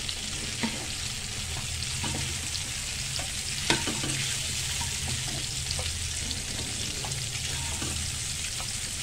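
Hard-boiled eggs fry in oil seasoned with salt and turmeric, giving a steady, close sizzle with occasional stirring clinks and scrapes throughout, no voices.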